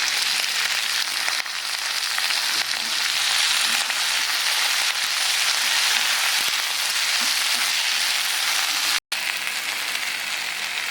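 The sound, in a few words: banana flower sautéing in oil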